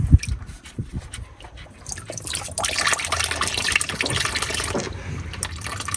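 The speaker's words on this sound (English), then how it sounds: "I'm gonna let it drain a little bit, then I remove it." Synthetic motor oil draining from an Acura MDX during an oil change, a steady close liquid pour and trickle that grows fuller partway through and keeps running.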